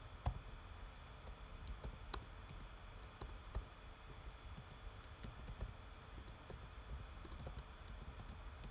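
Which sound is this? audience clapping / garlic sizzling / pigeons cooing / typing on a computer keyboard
typing on a computer keyboard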